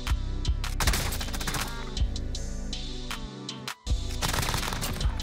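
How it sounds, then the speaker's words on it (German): Rapid machine gun fire from the MG82 in the video game Call of Duty Warzone, loud dense bursts with sharp individual shots, briefly pausing mid-clip before resuming. "Schüsse."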